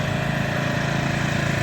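A riding lawn mower engine runs steadily and loudly up close, a constant low droning rumble with no breaks, alone without any talk.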